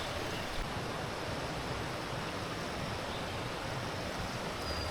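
A steep Nepali river rushes past a flood-damaged house, a loud, steady roar of flowing water with no voices.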